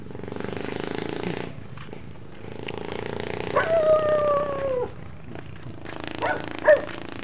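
A dog giving a drawn-out howl with a few yips nearby, outdoors, sounding over a faint background murmur.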